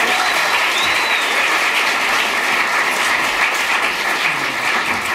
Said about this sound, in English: And then let's applaud these two wonderful actors.